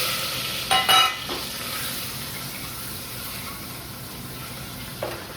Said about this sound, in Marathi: आता थोडीशी फ्राय करायची.